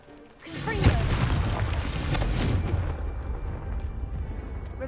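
A Confringo blasting spell in Hogwarts Legacy detonates with a loud, deep explosive boom, followed by a long rumbling, crackling decay that fades over several seconds.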